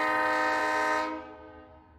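A cartoon train sounds a long, loud chord-like horn that holds steady before fading away, with a faint rolling rumble underneath.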